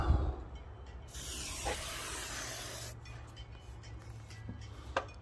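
Black spray paint hissing from an aerosol can with a chisel-tip nozzle during graffiti work, one long steady close spray burst of about two seconds, followed by quieter rattles and short clicks.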